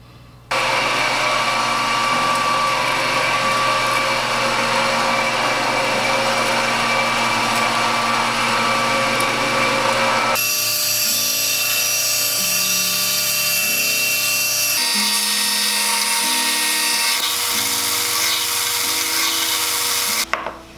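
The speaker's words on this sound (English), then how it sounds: "use an awl to mark out all the hole locations, which I will drill out on my drill press." A drill press bores holes through a wood cover, its steady high motor whine running continuously, then shifting pitch and texture partway through as the bit cuts, close and loud with no talking.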